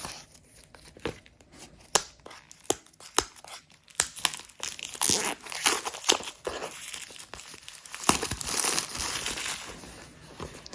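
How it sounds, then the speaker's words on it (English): Plastic wrap is peeled off the box of an AirPods clone earbud set, making close crinkling and tearing sounds with sharp snaps early on, then a longer, louder rustling tear. "So they peel the plastic off of them."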